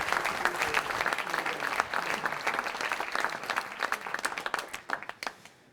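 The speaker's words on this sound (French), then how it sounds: "je vous propose d'applaudir Monsieur Corentin Jeanneret chaleureusement" A crowd at an opening ceremony for a regional training fair applauds warmly and continuously, dense clapping that thins into scattered claps before fading out.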